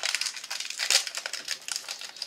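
A biscuit packet crinkles as it is opened, giving close, crackly plastic rustles in uneven bursts, with one louder crunch partway through and no voices.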